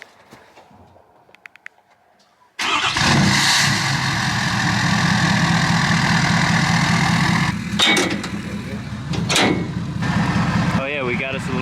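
A Duramax diesel truck engine cold-starts abruptly after a quiet moment, then settles into a loud, steady idle with clattering diesel rumble, dipping briefly near the end; voices are faintly heard around it.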